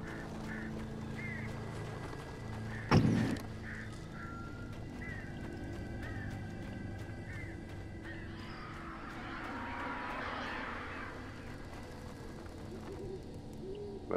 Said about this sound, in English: Those aren't evil birds.